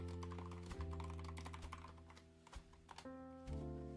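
Typing on a computer keyboard, a fast irregular patter of soft key clicks close to the microphone. Faint steady tonal music plays underneath.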